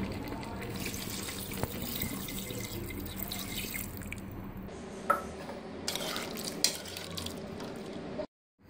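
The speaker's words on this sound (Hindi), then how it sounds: "मैं 1 गिलास पानी इसमें डाल दूंगी।" Water runs steadily into a pressure cooker pot for several seconds, with a couple of clinks, then cuts off abruptly.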